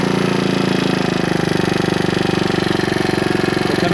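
A Suzuki DR200S motorcycle with a Nibbi carburetor idles close by, a steady loud single-cylinder putter with a fast, even pulse throughout.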